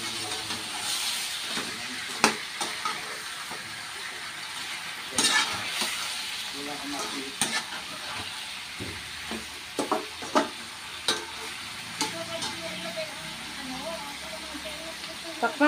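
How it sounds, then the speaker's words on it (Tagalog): Pork afritada simmering in a pan is stirred with a spoon, giving a steady hiss and bubbling with repeated scraping clicks and knocks against the pan, close and moderately loud, with brief speech in the background. "buksan na po natin at haluin natin."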